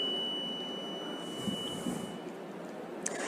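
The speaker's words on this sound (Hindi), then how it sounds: "5 सेकंड की बीप की आवाज़ यहाँ पर सुनाई देगी" An electronic voting machine emits a beep as the VVPAT slip is cut and drops: a faint, steady high-pitched tone that holds without a break through the whole stretch over low room noise.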